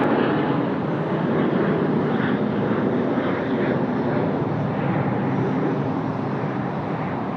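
An aircraft climbs steeply away from Sydney Airport after takeoff, its engines a loud, dense, continuous roar that holds steady without a break.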